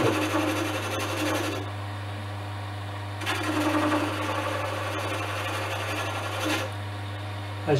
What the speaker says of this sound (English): You start at one end with the chisel and just slowly bring it